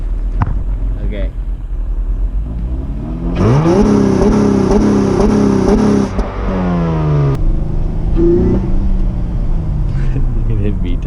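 A 4th-generation Acura TL fitted with a new intake revs up sharply for a few seconds, its engine note rising and falling close by, with idle and lighter engine sound before and after.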